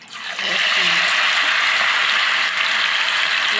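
Masala-marinated chicken skin pakoda dropped into hot oil, bursting into a loud, steady, close-up sizzle that carries on without a break.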